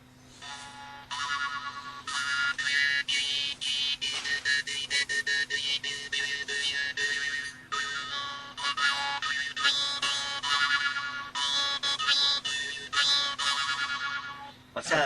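A jaw harp (Ukrainian drymba) played with the tongue and mouth cavity shaping its tone, giving a steady twangy drone with shifting overtones that pulses in short phrases, close and fairly loud with no talk.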